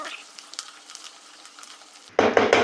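Bottle gourd and ridge gourd hit hot oil in a pan, starting with a sudden loud sizzle after quiet kitchen noise and continuing in crackling bursts, with stirring.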